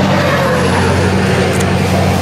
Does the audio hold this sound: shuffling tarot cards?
no